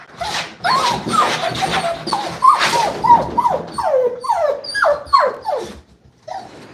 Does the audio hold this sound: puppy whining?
yes